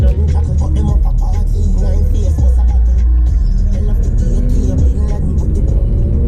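A 2020 Mercedes C43 AMG fitted with lowering springs cruises on the highway, its steady engine drone and road rumble filling the cabin continuously, with a faint voice now and then underneath.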